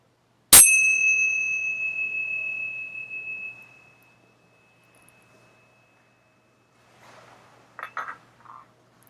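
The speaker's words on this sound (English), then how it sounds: "preparing to open your eyes as I ring the bell" A single meditation bell is struck once and rings out clearly with a long, pure tone that slowly fades over a few seconds, followed by quiet and a few faint rustles.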